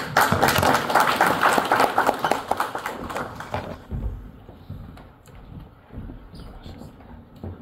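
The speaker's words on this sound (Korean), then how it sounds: "자, 박수 네. 하십시오." An audience at a Christian forum lecture claps briskly for a few seconds and then stops abruptly. Scattered taps and faint room noise follow.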